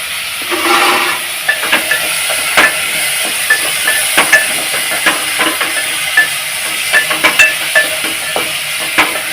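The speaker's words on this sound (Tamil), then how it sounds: "தாளிச்சுட்டு மஞ்சப்பொடி போட்டு அதுக்கு ஏற்ற மாதிரி உப்பையும் போட்டு நல்லா வதக்கின்னு இருக்கோம்" Onion and potato sauté in a pan with turmeric and salt, a constant loud sizzle broken by repeated sharp scrapes and taps of a stirring spoon.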